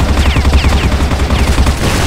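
Gunfire rattles nonstop in the shooter game CrossFire, loud and dense with rapid automatic bursts layered over one another.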